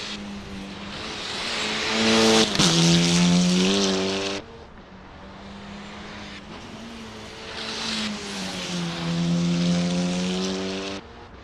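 Audi, Hyundai and Cupra race cars screaming around Fuji in Assetto Corsa, several engines rising and falling in pitch as they pass and rev hard through the gears, loud and continuous with no voices.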